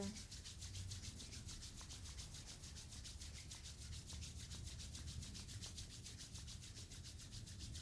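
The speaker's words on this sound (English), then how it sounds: "Rubbing your hands together." Hands rubbing together briskly in a steady back-and-forth rhythm, a soft continuous swishing friction heard close and alone.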